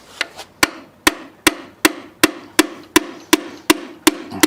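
A piston is hammered out of a 1981 DeLorean engine during a teardown, with about eleven sharp, loud metal strikes landing at a steady, even rhythm close by and no talking.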